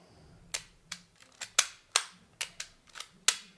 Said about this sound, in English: The shutter's firing. Sounds like it's firing.